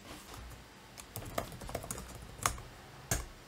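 Quiet keystrokes on a computer keyboard as a terminal command is entered on an Ubuntu machine, with scattered irregular clicks and a few sharper taps standing out alone.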